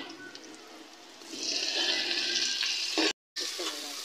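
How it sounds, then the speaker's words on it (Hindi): Onions and homemade masala of garlic, ginger, green chillies, tomato, salt, red chilli and turquoise-free turmeric sizzle in a pan for chicken tikka karahi, a hissing fry that swells midway, briefly cuts out, then resumes. "इसके अंदर डाल के भून लेते हैं इसको अच्छी तरह, थोड़ा थोड़ा पानी लगा के।"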